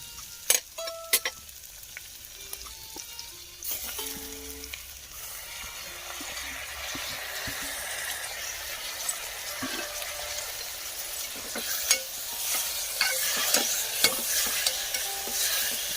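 Tomatoes frying in a pan for tomato thokku, with a steady sizzle that grows louder and busier over time, punctuated by sharp clinks and scrapes of a spoon stirring against the pan.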